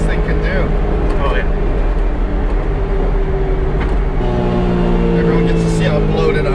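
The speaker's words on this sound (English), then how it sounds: "It's so loud and noisy." A small engine drones loudly and steadily from inside an Autozam AZ-1, with road rumble throughout and people talking over it.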